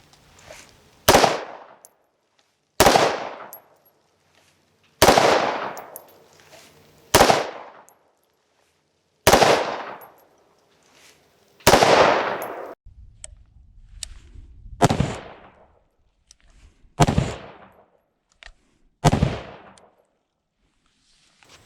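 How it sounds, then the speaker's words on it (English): Live rounds fired from a rifle fitted with a Ryker grip: about nine sharp, loud shots spaced a couple of seconds apart, each cracking and fading quickly into silence. "let's do some live rounds."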